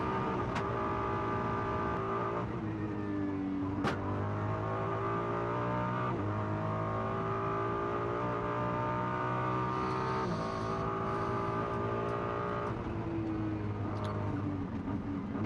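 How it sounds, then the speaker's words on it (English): Ferrari GT race car heard onboard during a qualifying lap of the Macau street circuit, its engine roaring loud and steady, with pitch rising and falling through gear changes and a few sharp shifts. "let's just have a listen to the engine"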